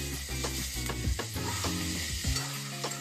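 Green tomatoes roasting in a pan with ginger-garlic paste give a steady, fairly faint sizzle, broken by repeated scraping and stirring strokes from a spoon against the pan.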